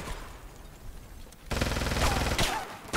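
Gunfire in SOCOM Confrontation, a quieter spell of distant shots that gives way to a loud, close burst of rapid fire about halfway through, with a few sharp reports near the end.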